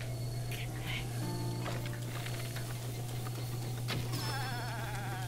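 A goat in The Legend of Zelda: Breath of the Wild bleats a few times, quavering cries over a constant low hum and soft game ambience.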